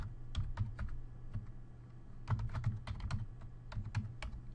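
Quick bursts of keystrokes on a computer keyboard, clustered in short runs with brief pauses between them, close and clear with no voices.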